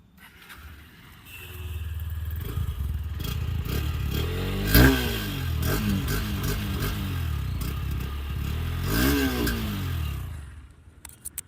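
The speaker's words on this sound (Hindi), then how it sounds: "तो कुछ इस तरह का एग्जॉस्ट नोट मिलता है विद दिस Honda NX200" A Honda NX200 motorcycle's exhaust idles, then revs up twice in rising sweeps, with a rough, throaty single-cylinder thrum close by, settling back to idle and cutting off at the end.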